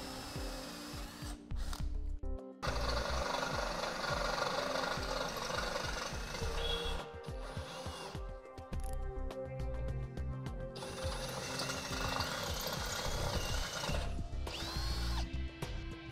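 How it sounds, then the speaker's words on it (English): A power drill bores a pilot hole into a vehicle frame for an air helper spring fitting, several grinding bursts of drilling separated by short pauses, close and steady. "I'm starting off a pilot hole and then I'll go up to my larger size."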